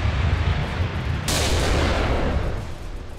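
Heavy artillery and gunfire in the Graviteam Tactics war game, a dense rumbling barrage with a sharp blast partway through, loud and continuous with no talk.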